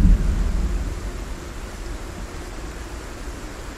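A thunderstorm in the zombie survival game Project Zomboid: a deep rumble of thunder fading into steady, hissing rain that fills the whole stretch with no voices.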